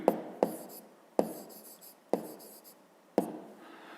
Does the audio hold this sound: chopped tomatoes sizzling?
no